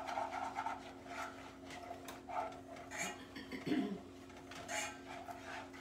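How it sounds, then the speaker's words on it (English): A plastic spoon stirring flour into melted butter in a copper pot, faint repeated rubbing and scraping strokes against the metal, with a soft voice speaking now and then. "Stir, stir, stir."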